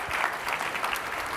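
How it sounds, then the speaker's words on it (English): A conference audience gives a brief courtesy clap for a speaker: a short burst of moderate, evenly spread clapping from a room of people, steady and unbroken, with no talking over it. "I know it's a courtesy clap."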